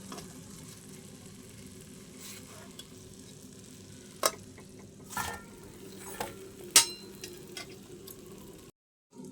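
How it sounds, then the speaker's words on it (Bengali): Nimki frying in oil over medium heat give off a faint, continuous sizzle, broken by a few sharp clicks and taps of a utensil against the pan. "এইভাবে আমি বাকি নিমকিগুলো সব এইভাবেই ভেজে নেব।"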